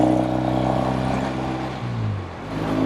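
A restored 1964 Triumph T100 motorcycle engine warming up, running in a steady close drone whose pitch sags briefly and then recovers, with no talking.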